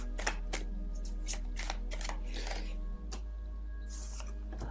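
Tarot cards are shuffled close by in a series of crisp riffling, flicking bursts over a steady low hum, with no voices.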